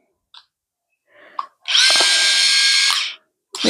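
An electric callus remover pedicure device whirs against the foot and heel in a close, loud high-pitched buzzing burst lasting about a second and a half, preceded by a few small clicks and followed by another start.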